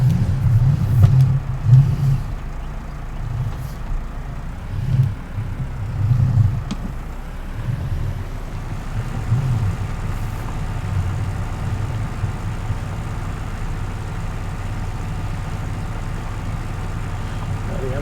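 A New Holland T6 tractor engine in Farming Simulator 19 drones steadily at low pitch, with a few louder swells early on before settling into an even, continuous hum throughout.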